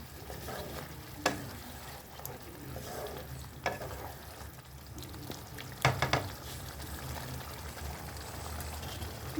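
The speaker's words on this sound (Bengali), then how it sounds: "এটার মধ্যে মাংসটা দিয়ে দেবো।" Meat frying in a pan, a steady low sizzle with occasional stirring scrapes and a few sharp clinks of a utensil against the pan; no one speaks.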